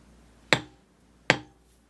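A beveling tool is struck twice on carved leather to follow a knife cut, giving two crisp, close taps about three-quarters of a second apart. No one speaks.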